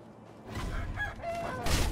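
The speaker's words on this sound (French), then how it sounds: "Les coqs, alors, attention les coqs." A rooster crows in the video game Sekiro, a short loud cry rising over a rough rumbling game background.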